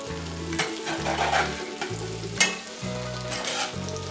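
Cut potatoes for hillbilly hash fry in a hot pan, a steady close sizzle broken by scraping stirs and one sharper clatter, with no talking.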